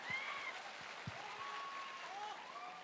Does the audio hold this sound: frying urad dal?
no